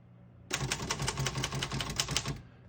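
Rapid keystrokes on a 1951 Royal KMG vintage desktop typewriter, a close, steady run of sharp clacks for about two seconds, starting abruptly after near silence and stopping cleanly.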